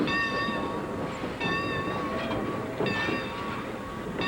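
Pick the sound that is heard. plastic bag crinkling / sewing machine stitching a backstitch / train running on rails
train running on rails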